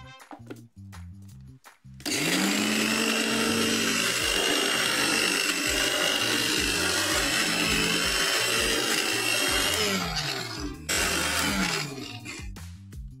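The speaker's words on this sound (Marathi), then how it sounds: "आणि एकदा मी हे मिक्सरला लावून घेतो बरं का" A kitchen mixer grinder whirs loudly as it blends food, kicking in sharply after a couple of seconds and running at a steady high-pitched drone before easing off near the end, with light clatter at the start.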